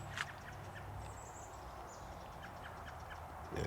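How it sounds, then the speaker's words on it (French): Blackbird calling outdoors in early summer, a few faint short chirps and thin whistles heard far off over a steady low wind or ambient rumble. "le merle emmerdeur est revenu d'ailleurs"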